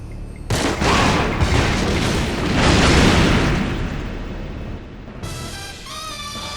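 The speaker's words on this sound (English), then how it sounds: "Fireworks." Loud, booming fireworks in James Bond 007: Agent Under Fire roll and crackle continuously for several seconds, then cut off abruptly into quieter synthetic game tones.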